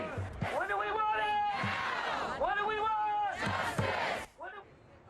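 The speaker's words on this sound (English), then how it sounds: "Black Lives Matter and other social issue groups were seen protesting." A large crowd of protesters outside a presidential debate venue shouts a rhythmic chant in unison, loud and close, each phrase rising and falling in repeated waves before trailing off at the end.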